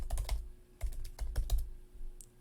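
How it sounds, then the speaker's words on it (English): Quick bursts of keystrokes on a computer keyboard while typing a word, close and crisp, in two short clusters with a brief pause between them. "So we're going to type confirm."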